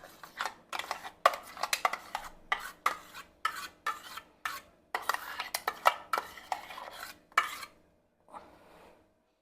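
A spoon stirs ground mix into sweet dosa batter with steady, rhythmic scraping strokes against the bowl, close and clear, then stops, and no one speaks.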